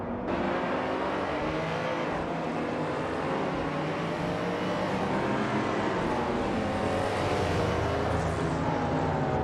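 Racing game cars, led by a classic 1985 Lamborghini Countach LP 5000 QV, roar off the start together, a steady loud engine drone with rising revs and no talk.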